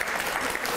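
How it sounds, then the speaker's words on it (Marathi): A studio audience on a Marathi home game show breaks into a brief burst of clapping, a dense, even patter lasting under a second. "टाळ्या वाजवा रे"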